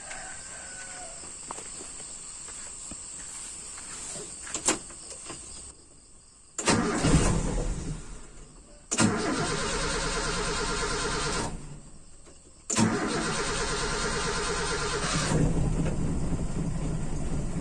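A carbureted motorcycle engine fitted with an Aisan carburetor is cranked and started several times, each attempt catching into a rough, steady running burst before cutting out, with crickets and insects chirping in the background.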